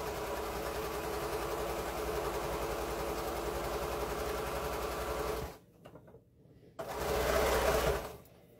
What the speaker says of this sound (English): Now just make sure when you're sewing, you're not flipping any of your seam allowances